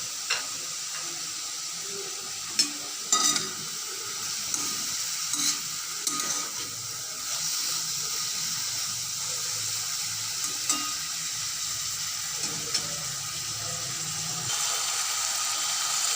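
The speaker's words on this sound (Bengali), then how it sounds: "এবার দিয়ে দিচ্ছি পেঁয়াজ কুচানো" Chopped onion goes into a hot pan for homemade chicken chowmein and is stir-fried, giving a steady sizzle with scraping stirs and a few sharp clinks of the utensil against the pan, close by and continuous.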